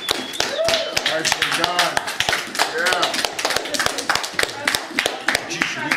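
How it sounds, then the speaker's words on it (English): Several people clap together after a pumpkin carving challenge, a dense run of close, sharp claps mixed with voices talking and praising over the top. "Give yourselves a round of applause."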